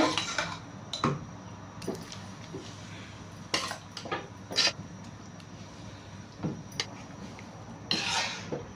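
A spoon scrapes and clinks against a pot as food is mixed, in intermittent strokes with quiet gaps between, moderately close, with no talking.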